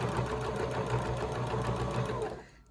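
Sewing machine stitching a seam on a fabric mask, a close, continuous rapid mechanical whirr with rhythmic needle clatter that winds down and stops near the end.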